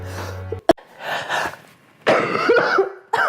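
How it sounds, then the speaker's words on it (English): A few sharp, harsh coughs close up, bursting out in quick succession with short pauses, followed by a raspy throat-clearing cough. "Most people have a coffee break. I have a coughing break."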